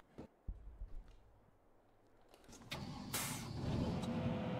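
Fendt 728 tractor in Farming Simulator 22, with its engine and gearbox: a quiet low idle rumble that swells into a louder, rising engine roar with gearbox whine over the second half.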